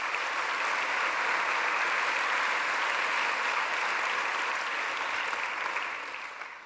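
A large university audience of nearly 800 people applauds Christine Lagarde in a hall, a dense, sustained wash of clapping that holds steady and then starts to fade at the end.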